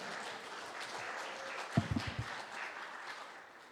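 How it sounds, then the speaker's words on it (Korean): Faint, distant applause from an audience at a Catholic Advent lecture, a soft wash of clapping with a few louder thuds in the middle. "다시 한번 큰 박수 부탁드립니다"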